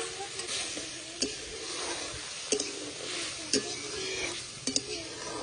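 A spoon stirs tengra fish cooked with mustard seeds, salt and green mango into a sour dish in a pan, giving a steady soft sizzle broken by a few sharp scraping knocks spaced a second or so apart.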